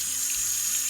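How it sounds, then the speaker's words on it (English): Peaches being washed under a running kitchen tap, heard as a brief, steady splash of water with a short dip partway through. "let's go ahead and wash some of these peaches"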